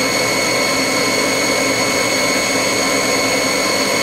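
The spindle of a 1998 Haas HS-1RP CNC rotary unit, rated for 7,500 RPM, spins steadily at 3,000 RPM. It gives a loud, constant whine with layered tones that hold unchanged throughout, with no voices.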